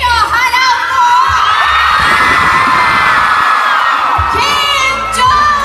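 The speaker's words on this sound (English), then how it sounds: "You all will scream now." Crowd of fans screaming and cheering loudly and continuously at a live K-pop concert showcase in Malaysia, high-pitched shrieks filling the whole stretch with brief swells at the start and end.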